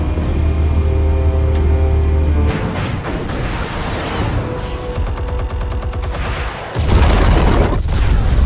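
Explosives detonate in Batman: The Telltale Series, a loud, dense barrage of booms and rapid gunfire-like bursts with a deep rumble, ending in a heavy low blast.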